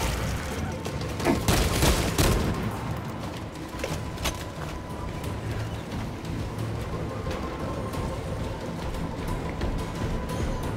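Weapons fire in a Warhammer 40K Space Marine 2 video game, with a cluster of loud sharp shots near the start giving way to a steady rumble of distant gunfire and battle noise.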